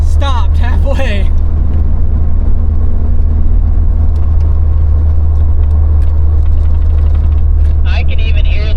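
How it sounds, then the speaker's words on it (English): Steady loud rush of wind buffeting through a car window stuck halfway open while driving, a constant low roar with road rumble throughout, and a voice talking briefly at the start. "I can even hear the wind coming through on your radio."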